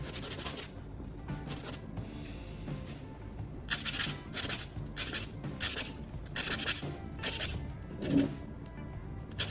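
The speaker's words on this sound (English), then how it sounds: "I'll move on to the bottom of the can, using the sandpaper to buff it until it's clean" Sandpaper buffing the bottom of a metal can with steady scratchy, rasping strokes, each stroke a short burst in an uneven rhythm, close and fairly quiet with no talking.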